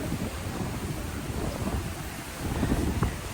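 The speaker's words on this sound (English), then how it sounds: "It's a bit windy today because the storm is coming in" Gusty wind buffets the microphone ahead of an incoming storm at a beach resort on Phi Phi, Thailand, a steady broadband roar with low rumbling surges that swell louder near the end.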